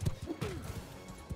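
Horse hooves gallop in the medieval combat video game Bannerlord during a castle battle, a quick uneven patter of thuds mixed with faint game noise.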